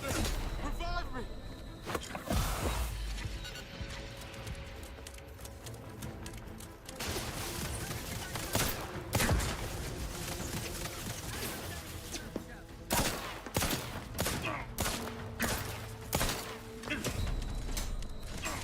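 Gunfire in The Outer Worlds 2 video game: repeated sharp shots and bursts scattered through a busy firefight, mixed with mechanical clatter and voices.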